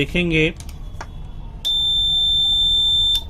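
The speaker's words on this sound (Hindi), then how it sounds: "बजर की साउंड भी आ रही है" Buzzer of a SIGMA high voltage tester sounding once the HV is switched on, a steady piercing electronic tone that holds for about a second and a half after a voice and a click.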